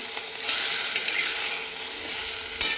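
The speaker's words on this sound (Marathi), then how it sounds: "पूर्ण मिरची टाकल्यानंतर आपण ह्याला खालीवर करून घ्यायचे, परतून पूर्ण तेलामध्ये एकजीव करून घ्यायची।" Chopped capsicum is stir-fried in hot oil for a Maharashtrian-style sabzi, a steady close sizzle with soft scraping stirs and a sharper clink of the spatula near the end.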